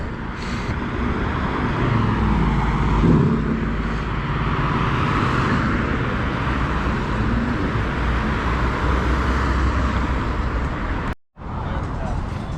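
Cars roll past on the street in Dealey Plaza, Dallas, a continuous roadway hum with passing vehicles swelling near and fading, while someone talks over the traffic; a brief dropout near the end.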